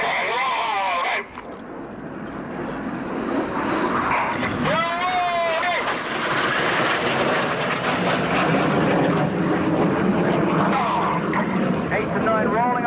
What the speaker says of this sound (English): You need to bring your eyes to the right-hand side to find the 4 jets of Jippo.